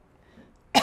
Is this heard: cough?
yes